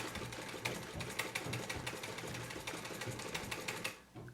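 A sewing machine stitches a fabric appliqué snowflake, its needle running in a steady fast rhythmic chatter up close with no talk, then slowing and stopping at the end.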